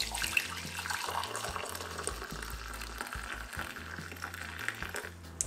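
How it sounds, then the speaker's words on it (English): Hot water is poured into a cooking pot of red cabbage, giving a continuous hissing, splashing rush that holds steady and fairly loud throughout. "put some hot water inside of it"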